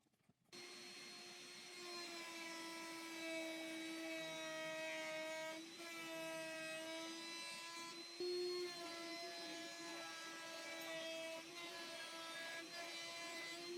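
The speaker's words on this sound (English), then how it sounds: "I'm just going to use my router with a straight guided router bit to get the final look" A router fitted with a straight guided bit cuts along wooden rails for a kids' kitchen helper stand, a sustained whining motor drone that holds steady for several seconds with slight dips in pitch as it bites into the wood.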